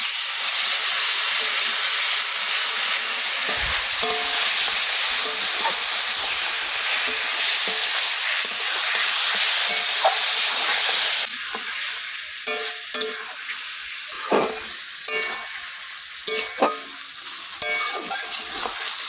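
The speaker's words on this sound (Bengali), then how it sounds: "এবার আমি এই লোটে মাছগুলো দিয়ে দেবো।" Bombay duck fish sizzle loudly in hot oil with turmeric and fried spices, a continuous crackling fry broken by repeated scraping stirs of a spoon in the pan, heard alone without speech.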